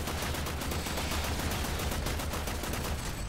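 Rapid automatic gunfire in Warframe, a dense unbroken stream of shots firing steadily for several seconds, loud and close with no talking.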